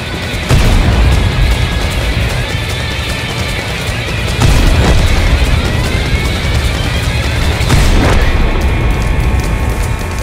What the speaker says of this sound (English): Both SPGs fire, turning themselves from a deadly threat to harmless fish in a barrel.